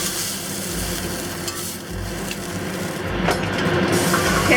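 Beef short ribs for garlic black pepper short ribs fry in oil in a hot pan, giving a steady broadband sizzle with a few clatters as the pieces are turned, no talking.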